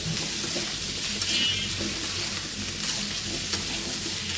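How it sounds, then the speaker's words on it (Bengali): Onion and green chillies frying in oil, a steady dense sizzle filling the whole stretch with light stirring scrapes mixed in, close and continuous. "আমি পেঁয়াজ আর কাঁচামরিচ দিয়ে দিচ্ছি সঙ্গে ভেজে নিচ্ছি"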